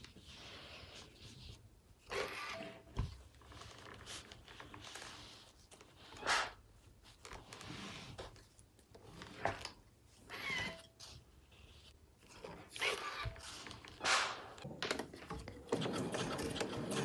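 A sewing machine stitching along the edge of folded binding for a backpack lining, several short bursts of whirring stitching separated by quiet pauses and handling sounds, close and fairly soft.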